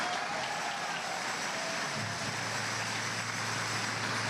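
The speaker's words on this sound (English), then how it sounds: "Let's give him another round of applause." Applause from an audience at a school board excellence celebration, a steady broad wash of clapping filling the hall throughout.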